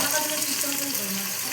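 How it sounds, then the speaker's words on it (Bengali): Boal fish frying in oil in a pan, giving a steady, close hiss and faint crackle throughout, with no talk. "বাবা তেল ছিটাচ্ছে তো, এই 5টায় থাক, তারপরে আবার পরে ভাজবো।"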